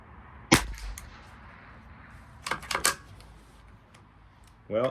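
A Bergara BXR semi-automatic rifle fires a single sharp, close crack during 50-yard semi-auto benchrest shooting with Eley ammunition, followed by quieter clicks and handling clatter of the action.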